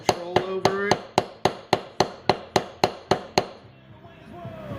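Leather beveling tool struck repeatedly with a mallet: about a dozen sharp, evenly spaced knocks close up, each with a brief woody ring, then the tapping stops.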